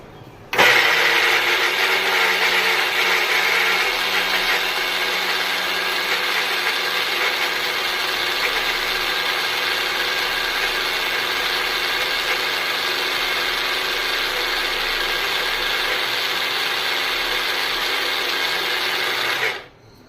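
A mixer grinder runs continuously for about 19 seconds, blending spices into a paste with a little water. The motor whine is loud, steady and close, with no talk, and cuts off abruptly at the end.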